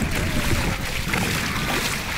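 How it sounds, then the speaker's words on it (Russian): Steady water and wind noise, like small waves lapping close by on Lake Shalkar near Uralsk, continuous with no talking. "Волны, как на море."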